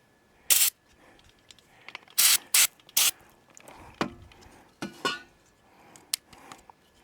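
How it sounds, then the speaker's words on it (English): Parts cleaner is sprayed at a lawn mower carburetor in a backyard. Short hissing bursts come close by, mixed with small metallic clicks and handling noises, with quiet gaps between them. "I got a parts cleaner, so we're going to clean this out and make sure it's all clean"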